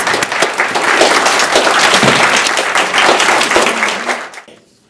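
A ceremony audience breaks into a big round of applause for an honoree, loud sustained clapping from a crowd that swells, holds, then fades out in the final second.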